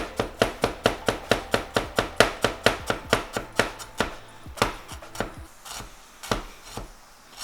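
A knife slicing peeled ginger thinly taps rapidly and rhythmically against a cutting board, a fast even run of slices that slows into slower, scattered cuts near the end.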